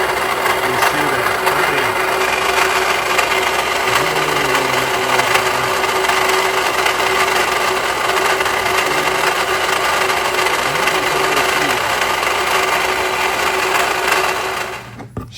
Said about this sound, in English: the upper part of it was just kind of rattling away back and forth